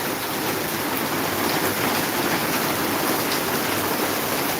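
A downpour in Maharajpur, thick continuous rain drumming hard on surfaces all around, loud and even throughout without any talking.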